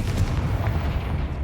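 A Confringo fire spell in the game Hogwarts Legacy bursts as a single dense, rumbling boom that fills the brief moment and sustains a low roar without trailing off.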